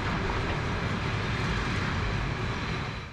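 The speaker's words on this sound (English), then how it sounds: "Here comes my train from the sidings. It's a loco-hauled train with a Norwegian type EL18 electric locomotive at the front." A loco-hauled passenger train behind a Norwegian EL18 electric locomotive pulls into a station in winter, giving a loud, broad, steady rumble and roar that stays close and fades slightly at the end.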